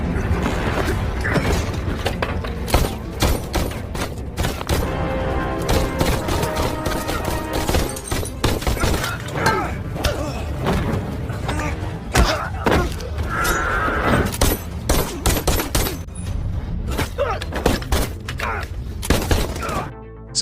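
Dense gunfire in an American action film with soldiers and police, rapid bursts of shots, impacts and shattering, loud and continuous throughout, mixed with film sound.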